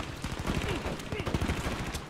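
Rapid gunfire in Call of Duty: Modern Warfare III, dense overlapping bursts of shots with low booms, loud and continuous under radio-style voice callouts.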